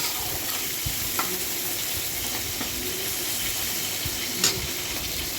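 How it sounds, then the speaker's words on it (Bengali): Ginger and spices fry in a pan with a dense, continuous sizzle close by, with a few light spatula taps and scrapes as the mixture is stirred. "এবার আমরা এই ভাজাটাকে ভালো করে নেড়ে চেড়ে ভাজবো।"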